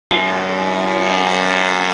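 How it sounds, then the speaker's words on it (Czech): CZ-80 RVE aircraft engine starting abruptly and then running at a loud, steady, buzzing drone throughout, close by and alone. "k pohonu slouží motor CZ-80 RVE"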